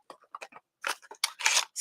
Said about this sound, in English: let me grab my scissors here